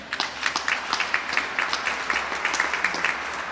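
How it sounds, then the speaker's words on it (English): Audience at a press event applauding for a state House Education chair: steady, moderately loud clapping from a modest crowd, continuous and fairly even throughout. "Let's give him a round of applause."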